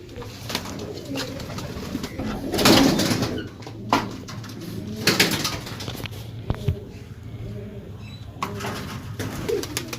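Pearled Sialkoti pigeons cooing in a loft, soft repeated throaty coos close by, with occasional wing flutters and handling thumps, and someone talking quietly in between.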